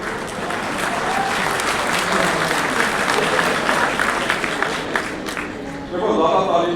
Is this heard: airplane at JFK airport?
no